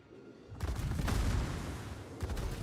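An enemy warship in a naval video game lets loose a rapid burst of gunfire, a dense rumbling barrage that swells and then fades before another volley starts.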